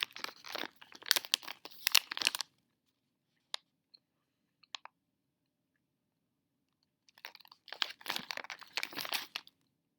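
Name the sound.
chewing a chocolate-covered gummy bear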